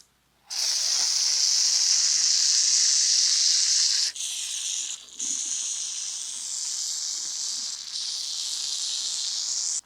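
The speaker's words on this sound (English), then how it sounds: "this WD-40 doesn't interfere with the rubber too much, but we're gonna try it." WD-40 lubricant sprayed from a can onto a garage door track rail: a loud, close, steady aerosol hiss lasting several seconds, briefly broken around four and five seconds before resuming.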